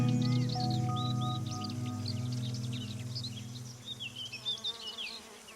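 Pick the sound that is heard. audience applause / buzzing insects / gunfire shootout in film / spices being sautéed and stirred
buzzing insects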